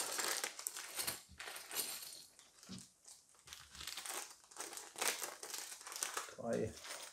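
Plastic bags of Cobi building bricks for a Trabant 601 model crinkle and rustle up close in repeated bursts, while a person talks throughout.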